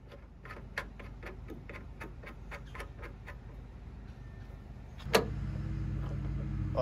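Ratchet clicking steadily in a quick, even series as a ball joint is tightened into a brass piece on an F-250 tailgate assist, followed by a louder metallic clack and a steady hum.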